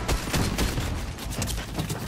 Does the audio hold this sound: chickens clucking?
no